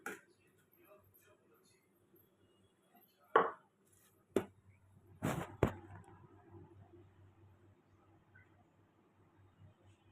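A few sharp, separate knocks and clacks of eggs being cracked and beaten in a bowl for pudding, close by and spaced out, with a quiet hum in between.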